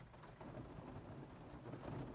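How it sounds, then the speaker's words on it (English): Heavy rain pouring outdoors with low rumbling thunder, a dense steady wash of noise that stays faint and distant, with no voices. "As soon as I got home from work, it started pouring out."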